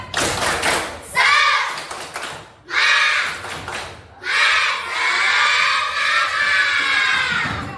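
Schoolchildren in a classroom chant and shout together in loud bursts, with a few short gaps between the phrases, while rhythmic claps and thumps run beneath the voices.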